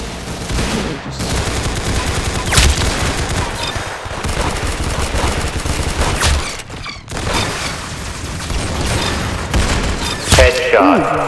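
Rapid gunfire from the Roblox shooter Arsenal rattles on continuously for about eleven seconds, loud and dense, with a few short gaps and heavier booms mixed into the bursts.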